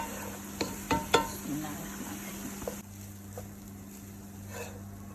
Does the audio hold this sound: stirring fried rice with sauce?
yes